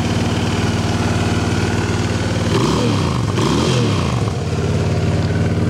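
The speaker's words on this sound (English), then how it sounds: "a 2006 Honda VT750. It's the Honda Shadow, and that thing's sitting there purring like a kitten." A 2006 Honda Shadow VT750 motorcycle idling with the choke pulled, a steady loping thump close by, briefly rising and falling in the middle before settling back to an even idle.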